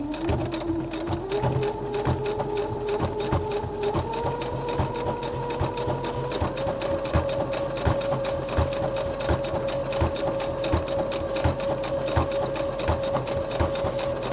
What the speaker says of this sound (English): I'm going to do the construction seam with the triple stretch stitch as usual